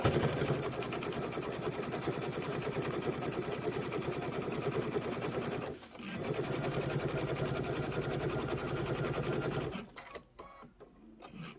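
Sewing machine stitching a quilt top, a steady close buzzing run with one brief pause midway, then stopping near the end with light handling sounds.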